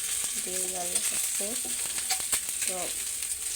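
Eggs frying in a pan for egg bhuna, a steady bright hiss and crackle of sizzling oil throughout, close and fairly loud, with someone talking briefly over it.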